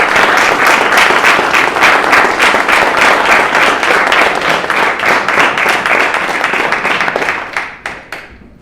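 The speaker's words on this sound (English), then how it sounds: "So could you guys just give them a round of applause?" An audience at a city honor ceremony breaks into loud, dense applause that holds steady for several seconds before trailing off into a few last claps.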